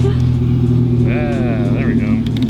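A truck drives past close by on a road, its engine rising and falling in pitch as it goes by, loud and steady for a couple of seconds.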